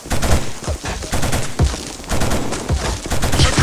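Suppressing fire in the PS2 shooter Killzone: loud, close automatic gunfire in rapid repeated bursts, with short gaps between volleys and a crackling, booming edge throughout.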